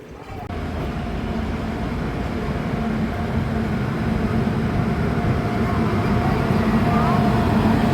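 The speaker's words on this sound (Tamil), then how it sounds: "மதுரை சண்டிகர் எக்ஸ்பிரஸ் மீஞ்சூர் ரயில்வே ஸ்டேஷனில் அன்சைடு ஆழத்தில் நின்று கிளம்புற மாதிரி இருக்குது" A steady low rumble of the Madurai–Chandigarh superfast express pulling out of Minjur railway station, loud and close, holding constant with a faint hum above it.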